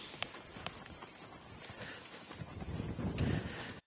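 A horse walks at a schooling walk in a snaffle bit, its hooves giving soft, irregular clip-clops with a few sharper clear strikes, close by over a rustling, breathy background without talk.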